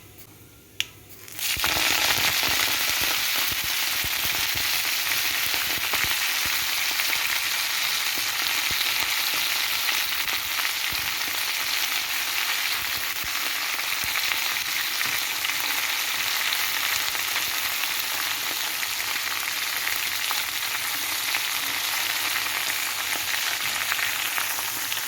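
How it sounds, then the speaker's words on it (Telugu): Bacchali leaves dropped into hot oil in a pan for curry, a sudden splash followed by loud, steady sizzling and crackling that holds evenly throughout. "జస్ట్ లైట్గా వేగిన తర్వాత ఇవి ఆకులు వేసేసుకుందాం ఇందులో"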